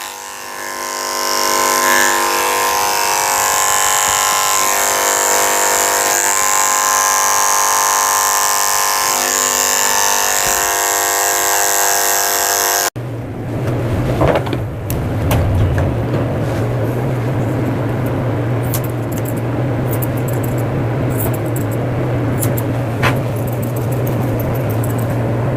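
Electric clippers buzzing steadily while shaving a Scottish terrier's back during a pet grooming cut, a close continuous hum that shifts in tone midway as the clipper moves, with faint handling sounds.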